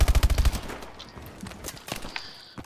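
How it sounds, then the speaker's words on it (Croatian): Rapid automatic gunfire in Call of Duty Advanced Warfare, a loud burst of quick shots at the start, then scattered fainter shots and game effects. "svi živi me pucaju ovdje"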